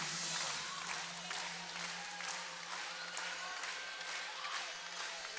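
A volleyball crowd stands and applauds in a packed arena during a close first set, a steady, dense wash of clapping and cheering that holds loud and unbroken throughout.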